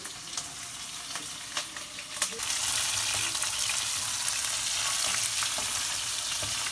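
Curry leaves, green chilies and onion frying in oil for a bottle gourd curry, a few stirring scrapes before a sudden louder burst of hissing sizzle that then stays steady and close.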